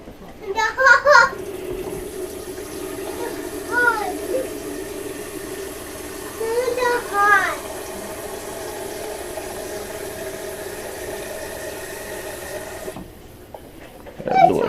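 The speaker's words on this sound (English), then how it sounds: "Add a little extra cold water to this one." Cold water pours continuously into a container of reformed ballistic gel, a steady filling hiss under brief bursts of talking from adults and a child.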